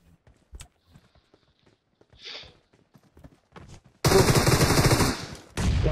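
Gunfire erupts in a video game shootout: after scattered soft clicks and thuds, a loud, sustained burst of rapid shots takes over the last two seconds, close and dense.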